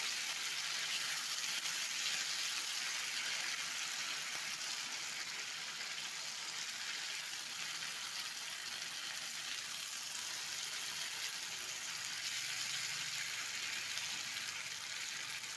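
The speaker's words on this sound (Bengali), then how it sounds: "এবার এটাকে সুন্দর করে উল্টিয়ে পাল্টিয়ে নেড়ে চেড়ে একটু রান্না করে নিতে হবে।" Ridge gourd peel paste cooks down in a pan, a faint, even hiss of gentle sizzling that holds steady throughout with no clear stirring strokes and no voices.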